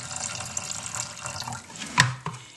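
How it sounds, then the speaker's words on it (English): Brine of salt water and vinegar poured out of a tilted container for a turkey, a close, steady trickle and splash of liquid with a sharper gush near the end. "I just tilt that over, collect the fluid, water,"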